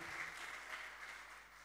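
A congregation clapping during a church anniversary service in Manokwari, a short burst of quiet, distant applause that fades out within a couple of seconds.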